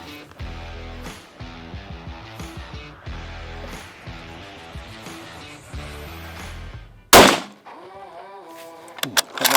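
A Sako 90 rifle chambered in .308 fires one sharp, loud shot near the end, after a stretch of steady tonal background sound.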